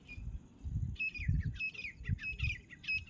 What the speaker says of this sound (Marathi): चिमण्यांचा ह्याचा असा किल किल किल किल किल किल आवाज आहे बघा